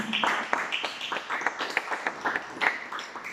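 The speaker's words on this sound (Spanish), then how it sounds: "le damos fuertes aplausos" A church congregation claps for a guest at a service in a quick, dense burst of scattered hand claps that hold at moderate loudness throughout.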